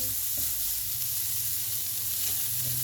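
Vegetables sizzle steadily in a hot pan while being stir-fried for Chinese fried rice, a continuous close frying hiss with faint stirring and no talk.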